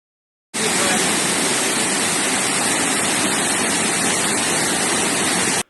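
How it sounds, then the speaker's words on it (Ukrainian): Floodwater rushes through city streets where cars and buses are sinking, making a dense, continuous roar that starts abruptly and holds loud and unbroken until it cuts off. "На вулиці, як ви бачите, ріки і тонуть машини, а також е, автобуси."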